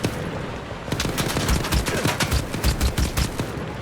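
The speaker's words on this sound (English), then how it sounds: "Why are they shooting me?" Rapid bursts of gunfire in the video game Stalker 2, dense overlapping shots cracking in quick succession from multiple weapons, loud and close, with no talk over them.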